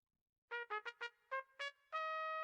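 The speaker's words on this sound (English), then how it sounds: "The trumpet sounds like this without effect." Dry trumpet riff from an Afrobeats production beat, unprocessed: six short punchy staccato notes followed by one sustained held note, clean and close with no reverb tail, alone.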